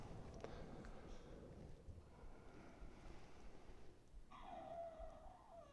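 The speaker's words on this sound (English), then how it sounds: "Can you hear my dog whining?" A pet dog whines indoors, a thin high-pitched whimper rising near the end over a steady low background rumble.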